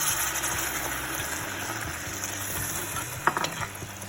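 Tomato puree with spices sizzles in hot oil in a pan while cooking a bitter gourd curry, a steady soft frying hiss with a few light scrapes of stirring near the end.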